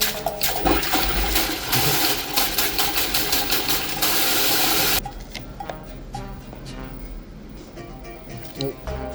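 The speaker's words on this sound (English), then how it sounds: "Look how posh this toilet is. And you got an arse washer." Loud rushing water and mechanical whir from a posh toilet with a bidet washer running in Kraków, continuous and close, dropping to a quieter hum midway, with some voice-like sounds mixed in.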